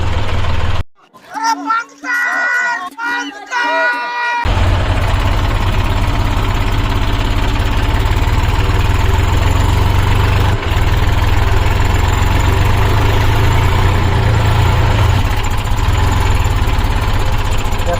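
A Massey 7250 tractor engine runs at a steady idle, loud and continuous after a few seconds of muffled voices and clatter at the start.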